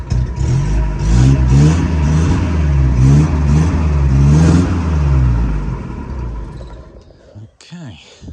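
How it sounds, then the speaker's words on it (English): A 1960 Bedford CA Dormobile camper van engine is revved up and held in a steady mid-range drone, loud and close, then dies away near the end with a brief mechanical sound. "Let's give it a little rev for you as well."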